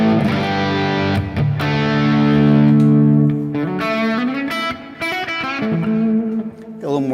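Electric guitar played through a digital modeling amp preset with extra reverb and delay, sustained chords and melodic notes ringing out with long echoing tails, loud and alone without talk.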